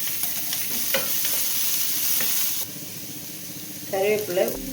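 Green chillies sautéing with browned onions in a pan give a steady, close sizzling hiss broken by scraping stirs, and it quietens partway through before a voice speaks briefly at the end.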